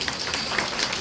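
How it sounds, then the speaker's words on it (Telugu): Audience applause at a Kuchipudi dance felicitation ceremony, a dense steady patter of many hands clapping close by, continuous and even throughout the short burst. "ఒకసారి గట్టిగా చప్పట్లు"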